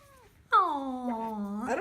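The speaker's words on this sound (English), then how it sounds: "I don't think that was a happy meow" A cat gives one loud, drawn-out, unhappy-sounding meow close by. It starts sharply, slides down in pitch and holds, and ends with a rougher rise, after a faint earlier sound.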